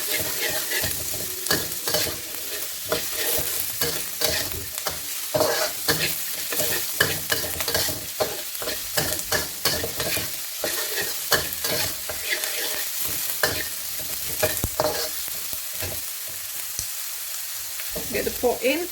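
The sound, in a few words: frying and stirring aromatics in a pan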